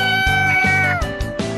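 A video game cat gives a few clear, close meows, one long and drawn out, followed by shorter high-pitched calls.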